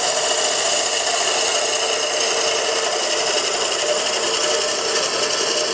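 A skew chisel shears wood spinning on a lathe, a loud continuous bright hiss with an even, unbroken texture throughout and no talking over it.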